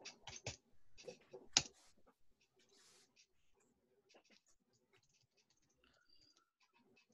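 Quick clusters of key clicks on a computer keyboard open the passage, then thin out into sparse, faint taps against near silence.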